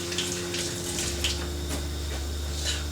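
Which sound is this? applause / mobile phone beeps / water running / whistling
water running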